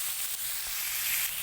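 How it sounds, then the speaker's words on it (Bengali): Curry with shola kochu, fish and potato-bitter gourd sizzling steadily in a hot pan as it is stirred, a close, even frying hiss with faint scraping. "ভালো করে নাড়াচাড়া করতেছি, নিচে যেন লেগে না যায়।"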